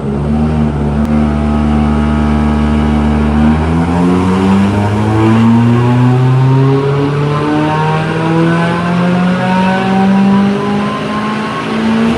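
A car with an FA20 engine accelerates hard through a tuning pull, its loud engine note climbing steadily in pitch for several seconds, close and continuous with no talking.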